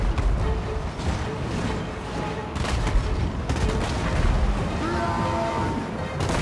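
Dense gunfire and cannon booms from a fantasy battle in Total War: Warhammer II with dwarf forces firing at wyverns, a continuous loud barrage of shots and crashes layered with battle noise and faint shouted voices.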